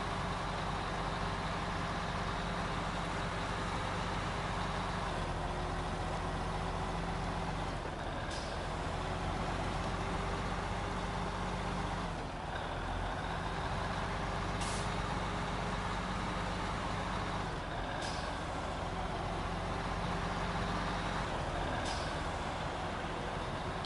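A heavy truck in SnowRunner drones steadily through a long drive, its engine hum constant and fairly quiet, broken now and then by sharp hissing bursts like air brakes.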